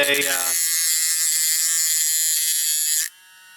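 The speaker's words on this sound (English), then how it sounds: "Dremel or something similar, and you want to just make one little flat spot there" A Dremel rotary tool grinds a small flat spot onto a motor shaft for an RC tank kit, giving a close, loud, high buzzing whine that holds steady for about three seconds and then stops abruptly.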